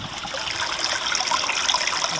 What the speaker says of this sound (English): I've got them both throttled down, otherwise they'd be kicking water clear out of the filter here.